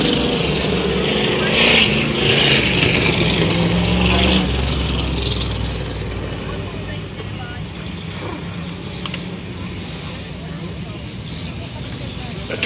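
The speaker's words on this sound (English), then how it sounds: "That 29 car sounds pretty good too." Race car engines, including the number 29 car, roar at an oval track race, a loud sustained drone that fades slightly as cars pass on, with a crowd and public-address commentary under it.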